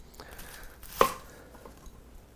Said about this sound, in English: I'm just going with onion today, and I want to cut that up.